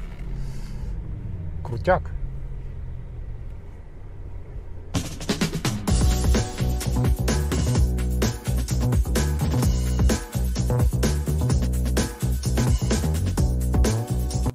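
A 2021 Porsche Taycan Cross Turismo electric car plays its synthetic Sport Plus mode soundtrack: a quiet cabin with a brief spoken word, then a loud, dense, steady electronic drone that runs for the remaining ten seconds.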